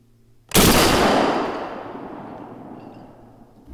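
Shotgun fired at targets while zeroing a red dot sight, one loud nearby blast that booms and rolls off in a long fading echo.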